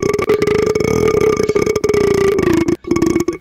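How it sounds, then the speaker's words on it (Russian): A long, loud, drawn-out burp rumbles close to the microphone, broken by brief pauses before a final belch, with no talking alongside it. "Кто там рыгает?"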